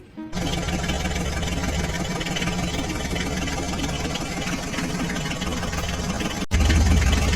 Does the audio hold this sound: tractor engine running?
yes